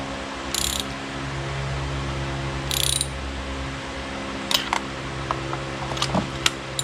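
Ratchet tool clicking as bolts are tightened on a Yamaha F200 outboard motor, two short bursts of rapid ratcheting followed by a few sharp metallic clicks over a low steady hum, close and moderately quiet.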